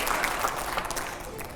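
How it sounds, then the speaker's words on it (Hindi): A studio audience breaks into brief, lively applause, a dense burst of clapping that stays steady for about a second and a half before easing slightly. "जोरदार तालियां पहले।"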